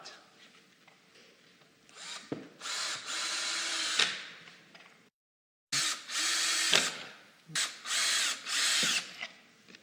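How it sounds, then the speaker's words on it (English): A cordless drill whirs in several short bursts with a brief pause, driving pocket hole screws into MDF with a rising whine and ratcheting clicks, close by. "we put these pocket holes in the MDF"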